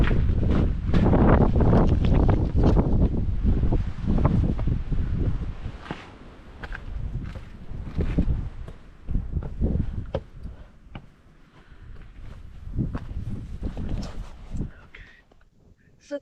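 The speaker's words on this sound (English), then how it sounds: "I left the sound of the wind so you could hear how much we were dealing with while hiking." Strong wind gusts batter the microphone on a hiking trail at Chiricahua National Monument, roaring loudly at first, then easing and swelling again in uneven bursts.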